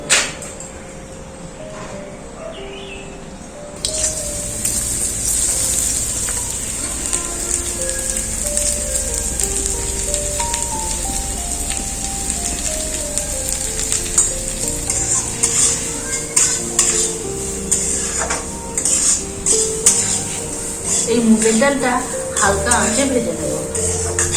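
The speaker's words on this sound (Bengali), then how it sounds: "এই মুগের ডালটা ভাজার জন্যে কড়াইয়ে দেবো সর্ষের তেল" Moong dal frying in mustard oil in a wok, a loud steady sizzle with stirring scrapes throughout, alongside music and some speech.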